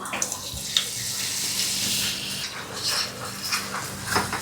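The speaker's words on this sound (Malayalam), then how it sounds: "ഈ ഒരു സ്റ്റേജിൽ ഒരല്പം വെള്ളം ഒഴിക്കുന്നു" A little water is poured into curry masala in a pan, giving a continuous splashing, trickling wash for several seconds, close and moderately loud.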